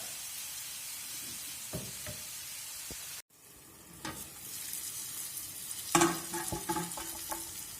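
Mushrooms and onion stew in a pan for a potato dinner, a soft steady sizzle broken by a brief pause, with light clinks of stirring utensils close by.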